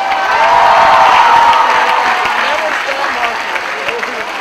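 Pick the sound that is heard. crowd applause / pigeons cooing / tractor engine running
crowd applause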